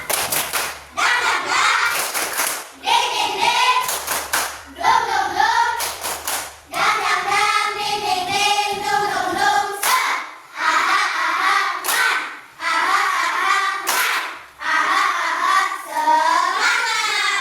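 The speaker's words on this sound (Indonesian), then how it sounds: "Tepuk semangat." Indonesian schoolchildren in a classroom chant together a loud rhythmic 'tepuk semangat' clapping chant, punctuated by bursts of sharp group clapping between phrases.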